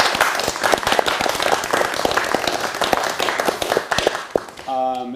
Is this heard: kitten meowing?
no